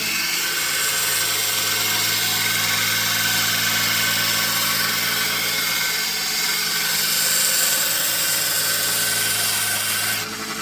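A belt grinder runs steadily as the bevel is hand-ground on a utility knife made from an old file, a loud continuous whine with a constant hum and no talking, ending in a brief drop.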